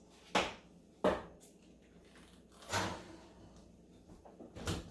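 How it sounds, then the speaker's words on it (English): Oven door handled while lemon squares go back in to bake: a few sharp clunks and thuds with a softer scraping swell between them, close by in a quiet kitchen. "now we're just gonna put this back in the oven for about 20-25 minutes"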